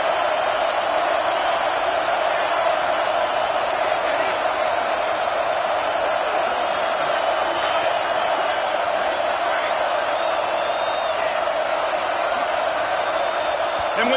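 Dense, steady roar of a stadium crowd at an NCAA 26 college football video game, a loud continuous wash of noise with no break, apparently under commentary.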